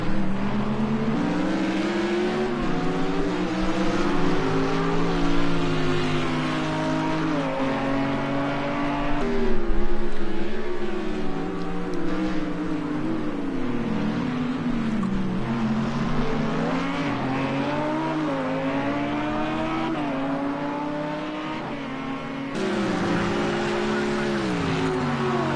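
GT race cars at Spa run side by side into the Bus Stop chicane, engines revving and shifting down under hard braking, a loud continuous roar with layered engine notes throughout.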